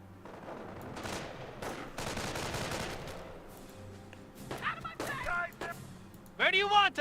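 Sniper rifle shots in the WWII strategy game Company of Heroes, sharp cracks and a short flurry of gunfire amid battle noise, with a voice speaking over the action.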